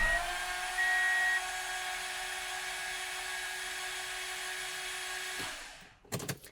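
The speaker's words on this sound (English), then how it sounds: "just crank it over, get the oil circulating" A Toyota engine with 271,000 miles and its spark plugs removed spins on the starter with no compression, a steady even whir and whine that runs several seconds before cutting off, followed by a few clunks.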